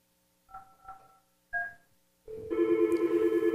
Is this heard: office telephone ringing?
yes